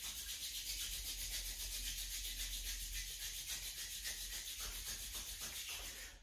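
Palms rubbed together briskly and continuously during a standing and seated meditation exercise, a steady close swishing friction that holds without pause for several seconds.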